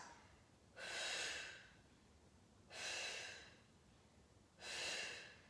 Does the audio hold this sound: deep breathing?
yes